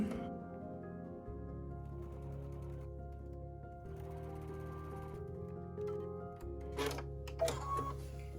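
A sewing machine stitching along the edge of jar-shaped fabric for a Christmas table runner, a soft low motor hum that starts and stops in short runs, faint and close, with light clicks and rustles in between.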